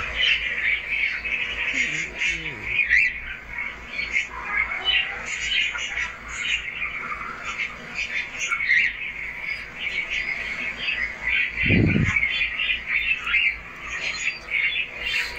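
Pigeons and ornamental birds at a backyard poultry setup call and chirp steadily in a busy, continuous chorus, with a brief low thump near the middle.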